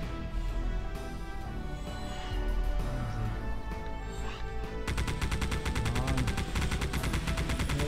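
A powerful weapon fires in the game Geist, loud sustained shooting that turns into a fast, evenly spaced machine-gun rattle partway through, layered over game music and effects without talk.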